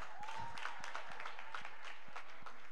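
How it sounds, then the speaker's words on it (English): Light, sparse clapping from an audience at a send-off ceremony and alumni launch, a handful of separate claps in an uneven rhythm over a faint background tone. "Please, the applause are low."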